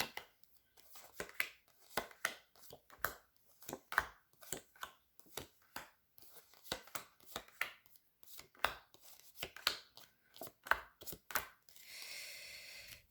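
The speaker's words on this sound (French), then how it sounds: "Je vais couper, je vais prendre 13 cartes d'un coup." Tarot cards cut from a deck, thirteen taken at once, as a rapid series of crisp, close snaps and flicks with short gaps between them, followed at the end by a brief rustling slide.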